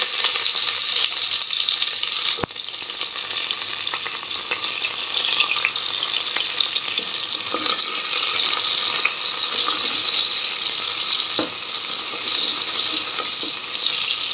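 Onions frying in hot oil for a brinjal dal sambar give a loud, steady sizzle that crackles on without a break and with no talking.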